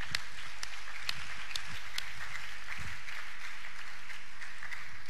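A church congregation applauding during a service, a steady, moderately distant wash of many hands clapping with a few sharper claps standing out.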